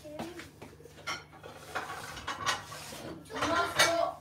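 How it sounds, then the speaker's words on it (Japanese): Plates being taken out and set down in a home kitchen while a pizza is served, giving several light ceramic clinks and clatters at close range over faint background noise. "りえちゃん、あの、今日お皿出してもらっていい？"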